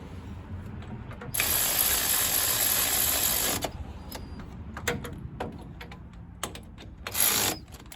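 A ratchet tightening wheel hub bolts on a 2003 Chevy Silverado during a front hub swap, a long continuous burst of fast clicking followed by shorter irregular ratcheting bursts, close and loud.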